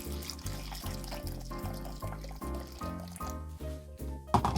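Hot water pours onto crushed beans seasoned with ginger powder in a home kitchen, a gurgling, bubbly stream with a pulsing, uneven rhythm, close and moderately loud, ending with a brief clatter.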